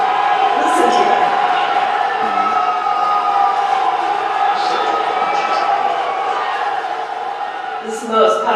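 A large outdoor crowd cheers and applauds in a continuous wash of noise, with scattered whoops and shouting voices rising above it, loud and sustained before easing slightly near the end.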